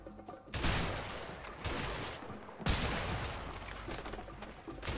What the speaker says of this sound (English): How much ammo does this fucking sniper have?